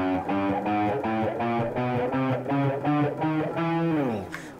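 Electric guitar with distortion playing the chromatic scale, a steady run of about ten evenly spaced single notes stepping upward, each sustained briefly, ending with a slide and fade.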